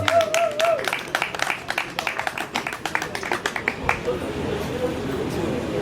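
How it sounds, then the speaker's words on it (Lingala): An audience at an evening stage show claps, starting with irregular individual handclaps that build into a rapid patter before fading into a softer wash, with a voice briefly speaking over the start. "Sous nos applaudissements,"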